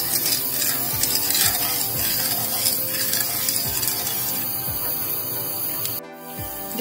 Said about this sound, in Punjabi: ਇਹਨੂੰ ਹਿਲਾਉਂਦੇ ਹੋਏ ਚਾਸ਼ਨੀ ਤਿਆਰ ਕਰਾਂਗੇ